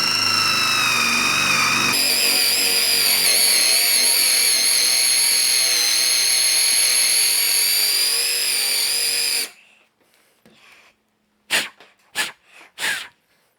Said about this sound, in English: So now I'm going to go ahead and drill my hole to the desired depth